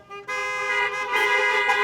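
Car horns blare at a Miami fashion charity event, a loud sustained honk starting abruptly and holding steady, with a second horn layering in partway through.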